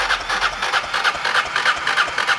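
A high-mileage Honda motorcycle engine, around 150,000 km, starts and runs with a steady, rapid mid-pitched throb, loud and close throughout.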